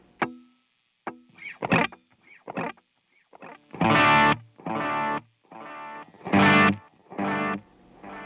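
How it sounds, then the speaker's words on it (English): Distorted electric guitar phrases through a tape delay pedal set to quarter notes, each note or chord repeating in fading, slightly warbly copies between bursts. "So really standard, just tape delay there."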